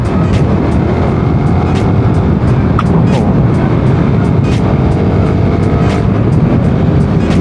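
A Yamaha Raider 150 motorcycle engine revs hard close up while shifting up through fifth and sixth gear, a loud continuous drone with wind rush and someone talking over it.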